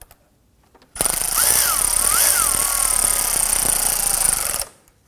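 Power tool whirs loudly and steadily for several seconds, snugging bolts while a radiator is installed on a 2003-2014 Volvo XC90 3.2L inline-six, the motor pitch rising and falling, then cutting off abruptly.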